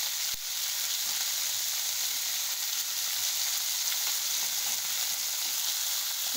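Puti, bata and other small fish fry in a pan with an even, continuous sizzle, close and constant after a single soft knock at the start.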